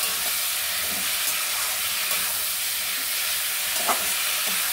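Vegetables frying with spice paste in a pan for a Bengali fish-head and red amaranth dish, giving a steady loud hissing sizzle with faint stirring scrapes, no talking.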